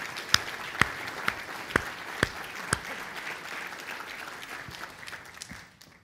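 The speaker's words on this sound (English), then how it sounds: "So a round of applause," An audience at a business data conference gives faint applause. A handful of sharp, evenly spaced individual claps stand out near the start, over a soft wash of clapping that fades away.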